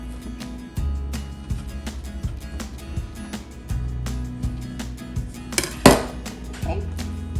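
Knife and utensil clinks against a dish while biscuits for a cauliflower biscuit stuffing are cut into cube-sized pieces, a series of light taps and scrapes with one sharper clatter near the end.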